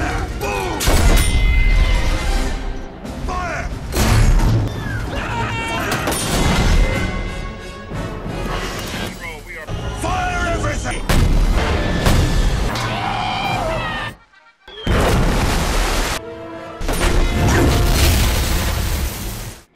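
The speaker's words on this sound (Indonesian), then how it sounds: "menembakkan meriam agar tank mereka bisa terbang dan bisa menyelamatkan diri" Heavy booming tank cannon blasts and crashing impacts in a loud, chaotic film battle mix, broken by a brief silence before the barrage resumes.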